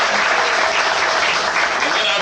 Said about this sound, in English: Give this brother a round of applause.